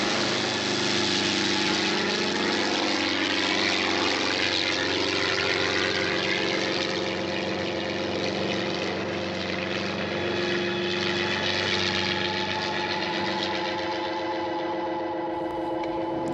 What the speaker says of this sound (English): a helicopter flying nearby